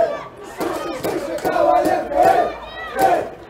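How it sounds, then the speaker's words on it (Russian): Supporters of the Rossiyanka women's football team chant and cheer from the stands at a match against CSKA, rhythmic crowd shouts rising and falling in waves, loud and somewhat distant. "Тот случай, когда болельщики россиянки поддерживают Ксению Коваленко. Слышите?"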